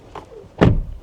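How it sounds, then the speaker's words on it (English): The door of a BYD Shark 6 ute shuts with a single solid, close thunk, preceded by a faint click of the latch. "Let's try the door."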